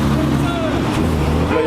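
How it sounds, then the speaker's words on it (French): Several Porsche cars pull away together, engines rumbling loudly and continuously at close range in a brief burst of traffic noise. "Là il y a toutes les voitures qui sont en train de partir."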